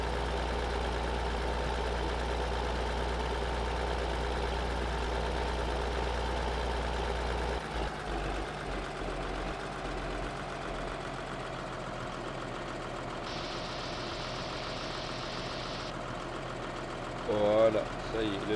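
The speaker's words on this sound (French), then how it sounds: "Là, on va prendre notre tracteur," A farm tractor engine idles and runs steadily during a field harvest, a continuous low mechanical drone with a slight change in tone partway through. Faint background sounds are present, but no clear talk.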